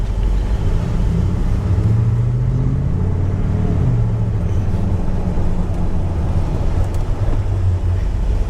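A lowered 2009-2014 Ford F150 2WD pickup drives along, heard from inside as a steady loud engine and road rumble with a slight rise in revs partway through.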